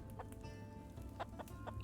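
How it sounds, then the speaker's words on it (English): Rooster clucks repeatedly in the video game Clanfolk, short close calls over a dense, steady background of game sound. "young rooster and an old rooster."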